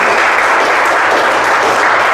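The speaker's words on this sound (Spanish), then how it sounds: "Dele un fuerte aplauso al Señor." A church congregation bursts into loud, close, dense clapping, a continuous wall of hands with no voices standing out.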